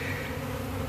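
Honeybees buzzing during removal of a colony from a tree in Tampa, Florida, a brief dense steady hum close by.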